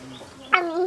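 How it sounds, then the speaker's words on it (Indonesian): A single chicken clucks once, fairly close and clear, with a soft background murmur before it. "Ayam, jangan nangis ya."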